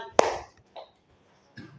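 One sharp, close clap stands out at the start, followed by a couple of faint voice-like sounds, as an audience does a single-clap response during a morning-session game.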